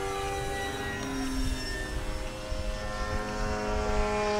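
A propeller-driven model airplane flies overhead with a steady, droning buzz that holds for the whole stretch, wavering slightly in pitch as it passes, loud and unbroken with no talk.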